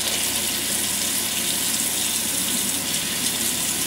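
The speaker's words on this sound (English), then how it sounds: "I just turn on the water." Tap water running steadily into a sink to rinse a milk frother after making a homemade latte, a close, even splashing flow with no voices.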